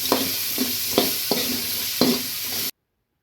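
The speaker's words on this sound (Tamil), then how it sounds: "இதில் வெங்காயம் தக்காளி ரெண்டுத்தையுமே நல்லா வதக்கிட்டு" Onion and tomato sautéed together in a pan for a village-style kandangathiri kuzhambu, a continuous sizzle punctuated by rhythmic spatula scrapes about every half second, then abrupt silence.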